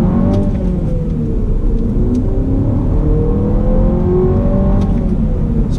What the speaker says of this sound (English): Let's do some acceleration.